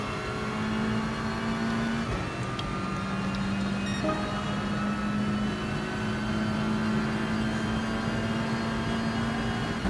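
A GR4 race car powers out of a corner at Autopolis in Gran Turismo, its engine note rising steadily and holding loud and continuous for the whole stretch, with no talk over it.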